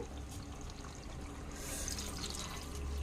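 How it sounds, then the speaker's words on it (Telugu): Water poured into mutton curry in a new pan, a steady splashing pour running close and fairly loud for the whole stretch, with no voices over it. "ఇందులో వాటర్ అయితే యాడ్ చేసుకుంటాను"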